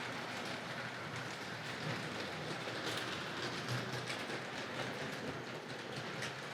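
A Tri-ang Hornby model train running on its track, a steady close rattle and fine clicking of small wheels over rail joints that goes on evenly without talking.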